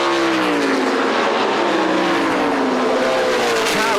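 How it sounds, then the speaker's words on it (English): A Lola T332 Formula 5000 race car, the ex-Johnny Walker number 25, howls on overrun into turn one at a retro motorsport race meeting, its loud engine note falling and wavering steadily throughout with no talk. "And you can hear that car on overrun down into turn 1."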